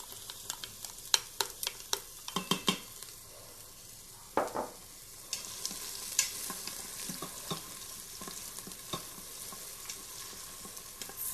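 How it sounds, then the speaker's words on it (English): Onion frying in a little oil in an Instant Pot, a faint steady sizzle under scattered sharp clicks and scrapes from a utensil stirring the pot, with no talking. "I'm going to add a little bit of oil and a little bit of onion."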